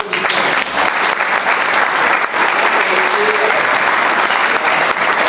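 Steady, loud applause from an audience at a Louveciennes public meeting on transport and school-schedule reform, honouring a man named Marc, sustained dense clapping throughout with no clear talk.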